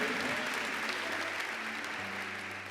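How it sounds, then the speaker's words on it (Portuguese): A church congregation applauds during a sermon, a steady wash of many hands clapping together at moderate distance, fairly quiet and even throughout with a low hum underneath. "Pode aplaudir Jesus."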